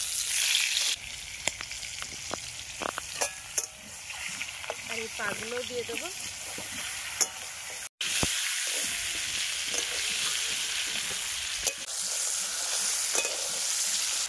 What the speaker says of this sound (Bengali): চিংড়ি মাছটাকে তেলে ছেড়ে দেবো।